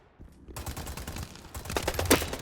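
Rapid automatic gunfire in a shooting video game, dense bursts of shots that grow louder and more intense toward the end, with no voices.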